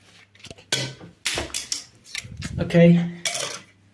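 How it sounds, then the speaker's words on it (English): Brush scrubbing dust off PC components being washed with soap: a run of short, scratchy bristle strokes in uneven bursts, close and moderately loud, with a brief clatter near the end. "let's start scrubbing. Get all of those dust particles out of there"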